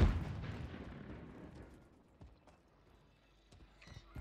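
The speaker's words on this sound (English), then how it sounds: "Stun grenade out." Stun grenade in a Call of Duty game, a single loud burst at the start whose boom decays over a couple of seconds, followed by a few faint, sharp clicks and knocks.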